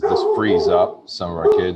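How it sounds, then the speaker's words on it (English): A dog at home barks and yelps loudly in short bursts, close to the microphone, while a person keeps talking during an online school committee meeting. "Sorry, that's my dog."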